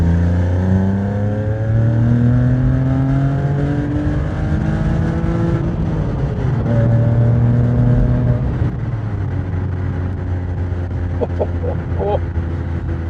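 A Porsche 987 Boxster engine revs hard through second and third gear, climbing in pitch, dropping briefly at each gear change, then pulling up again, loud and close.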